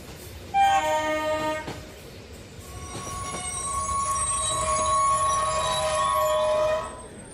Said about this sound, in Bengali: ট্রেন এসে পড়ল।